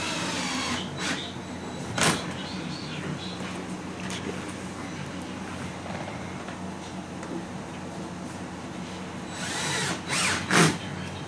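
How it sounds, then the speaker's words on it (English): A cordless drill with an adjustable torque setting drives screws while an egg incubator is assembled, giving short bursts near 2 and 10–11 seconds over a steady background. "I don't know if you have this kind of drill, but I like it because you could do the setting for the torque."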